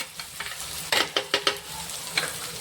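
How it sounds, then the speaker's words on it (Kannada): Tomatoes seasoned with salt and turmeric fry in a little oil while a spoon stirs and scrapes the pan, several sharp bursts of sizzle and scraping rising over a soft steady crackle, close and fairly quiet. "ಒಂದು ಸ್ವಲ್ಪ ಎಣ್ಣೆಗೆ ಫ್ರೈ ಮಾಡಿ ತಗೊಳ್ಳಿ."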